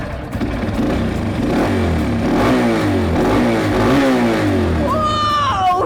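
A motorcycle engine revs under the throttle, a loud, close, rising and falling mechanical roar that fills the moment before a brief high whine at the end.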